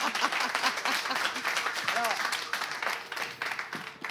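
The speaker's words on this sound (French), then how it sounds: "On l'applaudit." An audience at an animation contest evening claps warmly for a contestant, a lively patter of many hands with scattered crowd voices and chatter mixed underneath.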